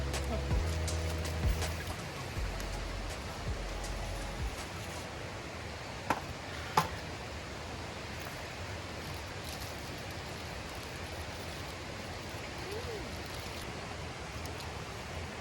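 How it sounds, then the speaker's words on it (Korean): Steady broadband rushing of a mountain valley stream at a campsite, continuous and fairly close, with a few brief knocks and faint low rumbles at the start and no talking over it. "오랜만에 계곡 소리 막 들으니까 좋네"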